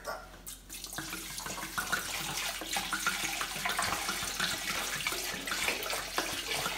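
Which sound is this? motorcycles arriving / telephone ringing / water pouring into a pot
water pouring into a pot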